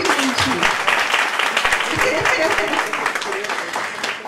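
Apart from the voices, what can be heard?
audience applause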